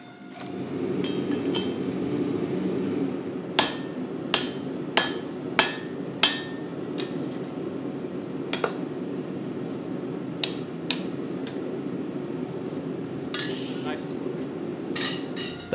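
Hammer blows forge welding a Damascus steel billet for a kaleidoscope chef's knife: a run of sharp metallic strikes, then scattered single hits, over a constant loud roar from a forge or power hammer.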